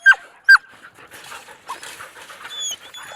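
A Kurdish dog lets out two sharp, high whimpers close by, followed by quick breathy panting and soft whines that continue to the end.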